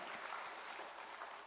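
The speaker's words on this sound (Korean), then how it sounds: "하나님 앞에 영광을 돌리는 박수를 올리겠습니다" A church congregation applauding during a Sunday morning service, a dense, even burst of clapping filling the room for a brief moment, with no voices over it.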